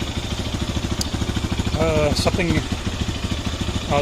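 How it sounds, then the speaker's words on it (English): A Lifan KPX 250 motorcycle engine runs at a steady idle with a rapid, even rumble and clatter throughout, close by, with a person talking briefly over it midway. "she cranks right up, as usual. I'll let it run a little bit"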